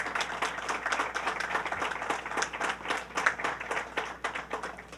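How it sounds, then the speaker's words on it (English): An audience at a government announcement event in Brooklyn, New York, applauds together: dense, sustained clapping from many hands that holds steady for several seconds at moderate loudness, with no voices over it. "Let's give them a round of applause."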